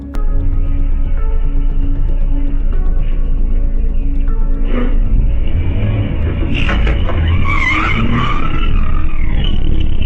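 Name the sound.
public bus accelerating with rear door open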